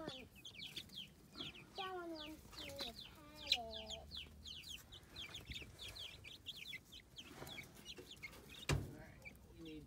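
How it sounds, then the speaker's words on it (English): Young chickens in a coop clucking and giving rising chirpy calls, several birds close by in irregular bursts, with a soft voice and a sharp knock near the end. "so we have the chickens in here."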